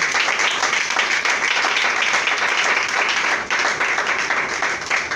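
A congregation at a church service applauds in a dense, continuous wash of clapping, loud and close, tapering slightly near the end.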